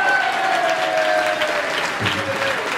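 A live audience at a summer festival of popular songs in Chartres applauds for a performer, giving a dense, steady wash of clapping, with a faint sustained musical tone running underneath.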